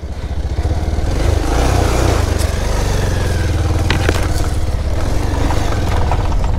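A motorcycle engine labours loudly and steadily as the bike slides down a slippery, rough hill road, close by throughout with no talking.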